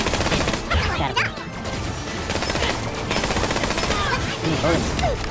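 Rapid gunfire and explosive bursts from the video game Borderlands: The Pre-Sequel fill the whole stretch with dense, loud, overlapping shots and crashes.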